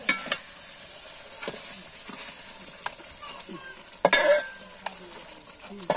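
A large katla fish head is sautéed in a pan, giving a steady low sizzle of frying with occasional scrapes and clacks of a spatula stirring it, heard close with no talking.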